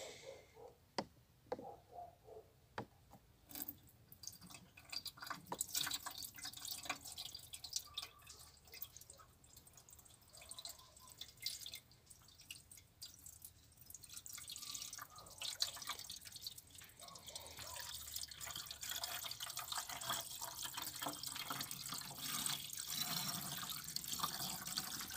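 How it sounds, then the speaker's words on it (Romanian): Water runs from a tap into a bottle, a faint thin trickle with scattered drips that grows slightly steadier and fuller toward the end. "Da, am pus prima sticluță, văd că încă nu s-a umplut."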